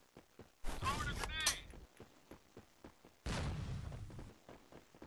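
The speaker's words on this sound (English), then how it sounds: "I'm gonna throw this flashbang right about there" A flashbang grenade goes off in the mobile shooter Forward Assault as two loud, broad bursts, the first with a brief ringing edge and the second longer, over faint game background.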